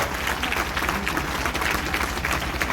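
Audience applause at a maths and science exhibition event, a dense steady wash of many hands clapping throughout, close and loud with no pauses.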